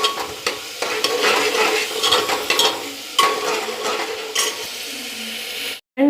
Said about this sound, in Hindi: अब ये अच्छे से भून जाए तो इसमें हम अपने मसाले ऐड करेंगे।